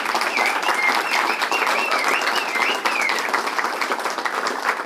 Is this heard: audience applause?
yes